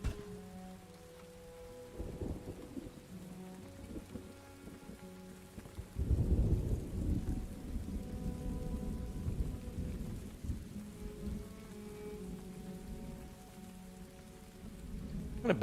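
Steady rain falls with rumbling thunder in the Farthest Frontier colony-building game, swelling to a heavier downpour partway through and continuing without talk.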